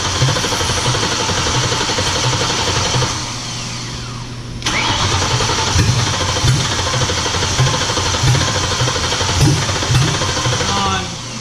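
A Ford GT500 engine fires up for its first start, cranking then catching into a loud, rough, uneven idle with surging revs and a brief dip partway, close by, with people talking over it.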